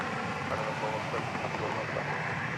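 Steady, broadband jet roar from a Southwest airliner taking off at night from Dallas Love Field, sustained throughout with some radio-like talk faintly beneath it.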